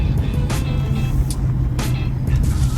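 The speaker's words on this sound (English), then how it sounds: "This time in a rather special car, a Jaguar XJ12, so the 12 cylinder." A Jaguar XJ12 Series 3's 5.3-litre V12 engine runs at a steady low rumble, with a constant deep hum and a few brief higher noises passing over it.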